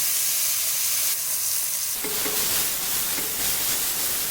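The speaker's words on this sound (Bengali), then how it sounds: "গরম তেলের মধ্যে পেঁয়াজ কেটে রাখা পেঁয়াজ দিয়ে দেব" Chopped onions dropped into hot oil for a potato, tomato and koi fish curry set off a loud, steady sizzle that surges and thickens at about two seconds, with faint clinks over the broad hiss and no voices.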